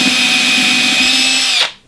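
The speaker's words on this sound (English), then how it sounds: "I like to drill pilot holes" A power drill boring a pilot hole in plywood for hinge screws, a loud, close, steady whine that holds for over a second and a half, then winds down abruptly as the trigger is released.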